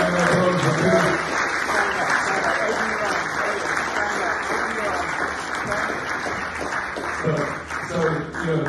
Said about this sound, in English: So big round of applause for Trudy.